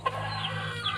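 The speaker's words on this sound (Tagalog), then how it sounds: "Kakatuwa po yung ating manok, brown, pero ang mga sisiw niya itim." Farm chickens, including a brown hen and her black chicks, cluck close by in a short, busy burst over a steady low hum.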